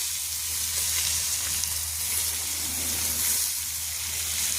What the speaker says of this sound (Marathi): कांदा कापून घेतलेला आहे तो टाकला